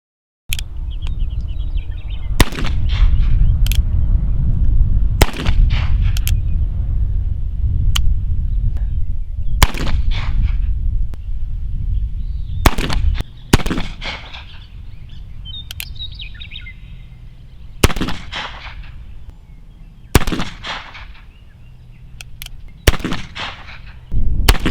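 Gunshots from an Uberti 1849 Pocket revolver at an outdoor range, about a dozen sharp, loud cracks spaced a few seconds apart, each with a short echoing tail.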